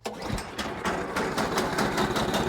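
An Ariens Deluxe 24 snowblower with the AX engine, primed three times then pull-started, catches and settles into a steady, close mechanical idle with a rapid regular chug.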